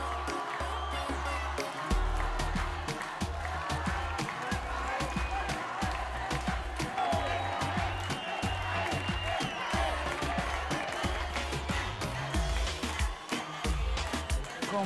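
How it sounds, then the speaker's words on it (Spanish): An audience applauds and cheers for the third and final finalist at a pageant, sustained dense clapping with whoops running throughout, loud and continuous. "Aplauso para nuestra tercera y última finalista."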